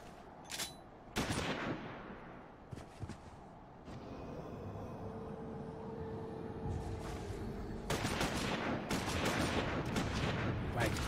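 Rapid bursts of gunfire from a battle in Final Fantasy XIV, with sharp shots early on, then a sustained, dense volley of firing over continuous combat noise, loud and close.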